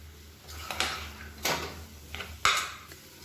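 A utensil stirs potato podimas in a cooking pan, giving several irregular metallic scrapes and clanks against the pan, close and fairly loud over a low background hum.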